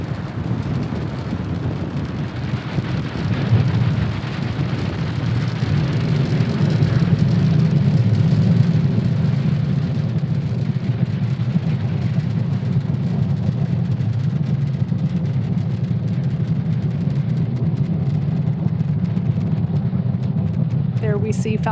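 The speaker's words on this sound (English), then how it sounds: "There we see Falcon 9 has successfully lifted off from Cape Canaveral Space Force Station, carrying our stack of Starlink satellites into orbit." A SpaceX Falcon 9 rocket carrying Starlink satellites lifts off from Cape Canaveral Space Force Station, a deep, continuous rumbling roar that swells slightly and holds steady from a distance.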